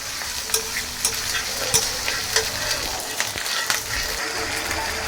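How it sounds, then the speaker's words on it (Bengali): Onion is stir-fried with red chili and a cumin and coriander paste, with a steady sizzle in the pan and regular scraping strokes of a spoon, close and fairly loud throughout. "এবার একসঙ্গে পেঁয়াজের সঙ্গে ভালো করে কষিয়ে নেব।"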